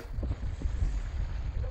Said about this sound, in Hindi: गाइस इतनी तेज हवा चल रखी है